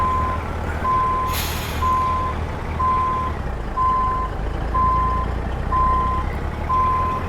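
A truck reverses in American Truck Simulator, its backup alarm beeping steadily about once per second over a constant low engine rumble, with a brief hiss of air brakes near the start.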